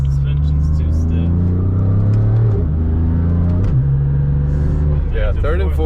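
BMW F80 accelerating hard on cold tires, its engine note climbing steadily and then dropping as it shifts gears, loud and close throughout, with the tires scrabbling for grip.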